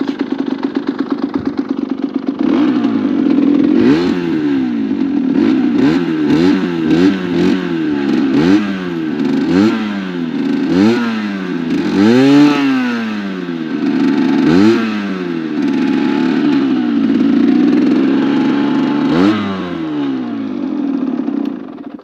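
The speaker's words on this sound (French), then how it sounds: "Après ici on a le petit kick. Hop. Donc je vais vous faire écouter le bruit." A 2020 MRT Pro motorcycle is kick-started and its small engine runs close by, idling with a steady putter and then revving in repeated sharp blips that rise and fall before settling back to idle.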